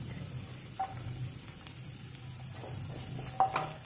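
Finely chopped onion frying in hot garlic oil in a pan for spicy vegetable Maggi noodles: a faint, steady sizzle with a couple of soft utensil taps and no voices.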